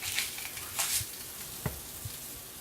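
Vegetables for lasagna frying in a pan give a soft, steady sizzle, with a few brief clicks and scrapes from stirring nearby.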